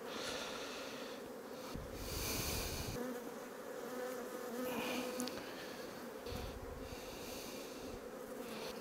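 Honey bees buzz steadily in an opened beehive, a dense, continuous hum close up with individual bees droning louder as they pass near, no voices over it.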